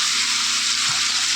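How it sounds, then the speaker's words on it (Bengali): Carrot and potato fry in oil with a steady, close sizzling hiss and a couple of faint soft knocks underneath. "দিয়ে এবার আমি গাজর আলুটাকে ভালো করে ভেজে নেব।"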